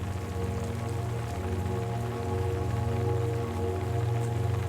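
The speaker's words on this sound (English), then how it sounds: "as the rain continues its soft" Rain against a window at night: a soft, steady patter over a low continuous hum, even and unbroken throughout, with no voices.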